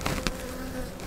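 Honeybees clustered in a hive during a frosty November, a close, continuous droning buzz with a couple of brief rustling knocks at the start.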